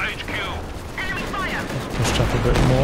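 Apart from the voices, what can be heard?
machine gun fire from Company of Heroes 2 video game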